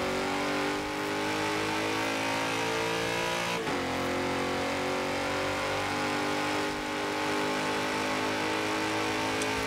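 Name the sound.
2011 BMW X5 M V8 engine accelerating in Forza Horizon 4 video game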